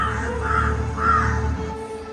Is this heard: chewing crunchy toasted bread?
no